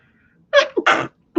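A single close sneeze with a sharp intake and burst, followed by a quick second vocal sound.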